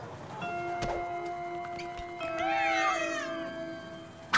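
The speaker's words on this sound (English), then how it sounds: "Playful kittens make Deuce go!" Playful cartoon kittens meowing, several high wavering mews overlapping over a sustained musical drone, the loudest cry rising in the middle and trailing away.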